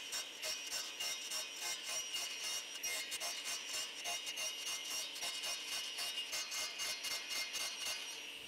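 A table saw rips wood along the rip fence in a workshop while workbench parts are being made, producing a steady, fairly faint whine broken by quick, regular rasping pulses throughout.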